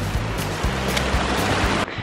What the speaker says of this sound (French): Encore une cascade.